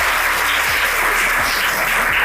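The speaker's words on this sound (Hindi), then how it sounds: "तालियां बजाओ पहले इस बच्ची के लिए।" Audience clapping for a young girl at a gathering, a dense continuous patter of many hands that holds steady and fairly loud for the whole short stretch.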